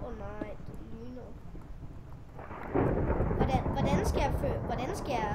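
Thunder rolls in a lightning storm in what appears to be Minecraft: a low broadband rumble that swells loudly about halfway through, with speech-like voices talking over the storm.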